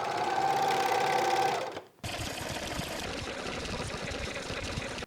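A sewing machine stitches a track suit waistband in a fast, steady mechanical whir, stops briefly, then starts again and runs on at an even pace, close by and alone.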